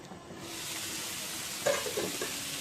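Ridge gourd peel chutney stews in a pan over a low flame, giving a soft, steady sizzle with a few brief scraping stirs near the end.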